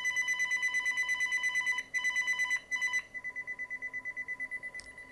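Ringtones from a VTech CS6124-11 DECT 6.0 cordless phone, heard alone and close: a steady electronic warble that pulses rapidly, breaks off twice, then switches to a second pattern of evenly spaced beeping pulses.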